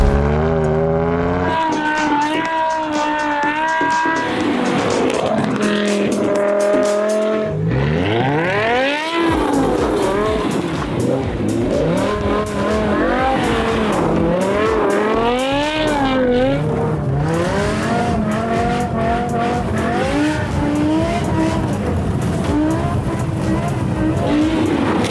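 BMW car accelerating hard up through the gears, its engine note climbing and dropping sharply at each violent shift, loud and close, with tire squeal and revving continuing for the whole stretch.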